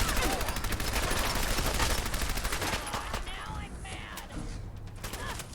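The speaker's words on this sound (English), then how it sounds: "that was a real proper shootout" A shootout in the video game Fallout 4, with rapid bursts of gunfire crackling densely through the first half, then thinning to scattered shots and mechanical clanks as the firing eases off.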